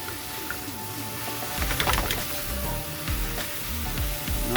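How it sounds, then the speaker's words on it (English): Steak strips with onions and peppers frying in oil in a pan for a Philly cheesesteak, a steady crackling sizzle with rhythmic scraping and stirring knocks that swell midway, close and fairly loud. "About halfway through, you can go ahead and add in your onions and peppers"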